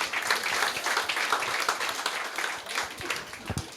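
Audience in a meeting hall claps together for several seconds, a dense, steady burst of applause with scattered louder hand claps near the end.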